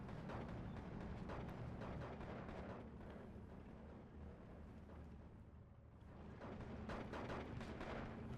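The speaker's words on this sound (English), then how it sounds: "Just rifles going to town." Continuous dense rifle gunfire and battle rumble in a Steel Division 2 match, a steady wash of distant shots and booms that dips briefly midway before swelling again.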